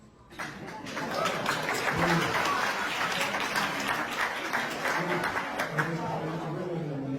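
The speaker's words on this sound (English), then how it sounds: "please hold your applause" An audience at a candidate forum breaks into applause that swells quickly and carries on steadily, with some chatter and light laughter mixed in.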